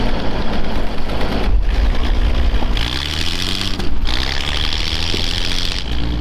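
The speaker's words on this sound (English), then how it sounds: "It actually sounds really cool out here when you rev it up. Sounds like an old school gas tractor." The engine of a snowcat rumbles loud and close during a recovery in the snow, idling with a low, steady drone and then revving up in a rising sweep before it settles again.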